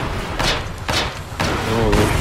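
Artillery shells explode in the video game Foxhole during a defense, several heavy booming thuds in quick succession, each followed by a short rumble.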